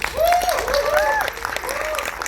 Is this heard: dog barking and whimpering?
no